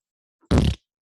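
A voice imitates a fart with one short, loud, buzzing raspberry burst, alone against silence.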